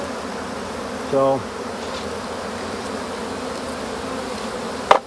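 Calm honey bees hum around an opened hive during an early spring inspection, a steady low buzz with one bee droning loudly past for a moment and a brief knock near the end.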